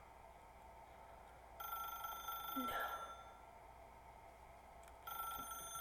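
A telephone rings in The Stanley Parable video game, its bright electronic trill sounding in two bursts over quiet ambience, with a brief spoken word in between.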